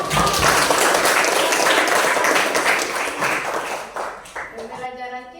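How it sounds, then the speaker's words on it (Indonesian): A classroom group of pupils claps together in a loud burst that gradually thins out, with a voice speaking and a few tones near the end. "Iya, tepuk tangan."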